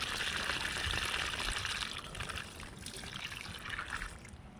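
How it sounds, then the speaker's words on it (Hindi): Water is poured into a soil-filled grow bag being readied for bottle gourd planting. A steady, close trickle and splash runs for several seconds and eases off slightly toward the end, with no talk. "अब क्या कर रहे हैं, हम इसमें पानी भर रहे हैं।"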